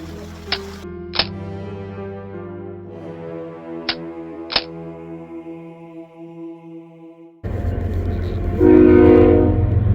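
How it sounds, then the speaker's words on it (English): A train rumbles past nearby with sharp clanks and a sustained horn-like tone, followed by a louder roaring rush of wind or rain. "How often does the train go by?"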